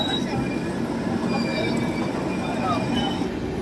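Garib Rath express train with a new 3rd AC coach running steadily just before Lucknow Junction while overtaking the Doon Express: continuous loud rail rumble and wheel noise with faint squeals, no break in the roar.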